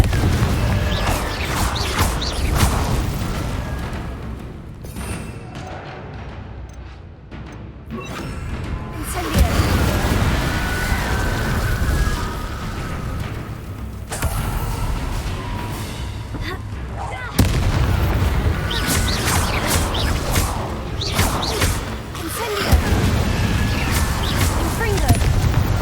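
Confringo fire spells burst repeatedly in Hogwarts Legacy combat against an Inferius, loud booming blasts and crashes recurring through a dense game soundscape, with a voice speaking over parts of it.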